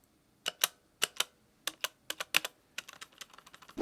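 Close-up presses on the space bar of a HyperX mechanical keyboard, a series of separate sharp clacks, often in quick pairs with a rattly edge, evenly spaced and heard alone in a quiet room.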